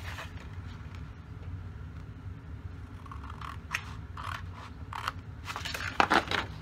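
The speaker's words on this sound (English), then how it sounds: "you're going to cut those just to the score line, to the larger score line." Scissors snipping scored paper pieces for a Chanel-style paper purse, a handful of short crisp cuts growing clearer toward the end, close and fairly quiet with no talk.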